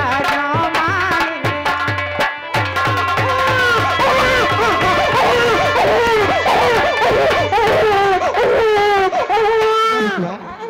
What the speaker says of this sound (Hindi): बच्चे की रोने की आवाज आ रही है।